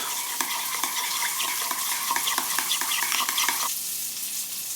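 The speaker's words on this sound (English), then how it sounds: "a decent spoon of Dijon and about an equal amount of cream. We'll mix that together." A spoon stirs Dijon mustard and cream together in a bowl for a burger sauce, with quick, evenly repeated scraping strokes over a dense wet hiss that stops abruptly near the end.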